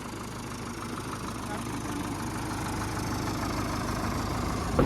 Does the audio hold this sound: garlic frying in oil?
no